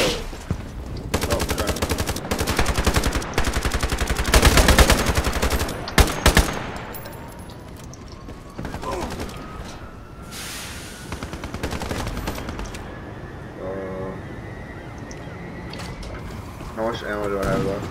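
AK-12 rifle fire in the online shooter Ironsight, loud rapid automatic bursts in the opening seconds followed by quieter game ambience, mechanical clicks and a few distant shots, with a player talking over parts of it.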